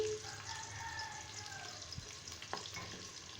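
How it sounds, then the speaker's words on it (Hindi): Whole garam masala spices and onions fry in oil inside a pressure cooker, giving a steady sizzle with a few light clinks near the middle and end, with no talking. "अब मैं इसमें ये साबुत गरम मसाला डालूंगी और साथ ही प्याज डाल दूंगी।"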